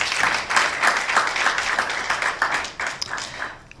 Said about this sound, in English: The Honourable Minister deserves another hand clap